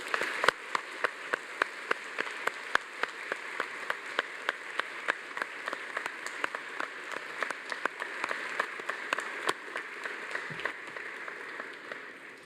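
Audience applause at a university graduation ceremony, made of sparse, distinct hand claps with sharp individual strikes that continue steadily at moderate volume for about twelve seconds.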